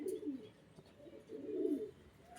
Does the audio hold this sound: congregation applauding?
no